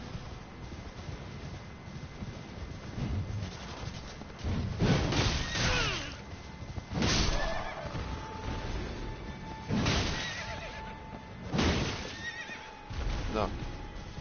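Several loud horse whinnies and snorts rise and fall over a rumbling game-like background, with thuds of hooves between them and no clear talk.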